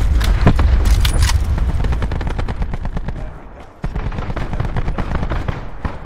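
Rapid, loud gunfire in Black Ops 4 for most of the stretch, dense repeated shots close up, a brief dip in volume and then firing resumes.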